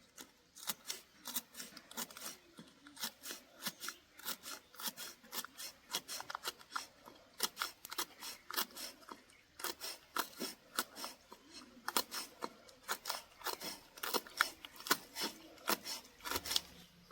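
Green chillies being sliced with a knife on a cutting board, a steady run of quick, crisp close-up cuts with no talking.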